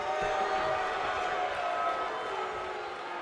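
Arena crowd in the WWE 2K24 wrestling game reacting during a match, a steady, dense roar of murmuring and cheering that holds loud throughout and eases slightly toward the end.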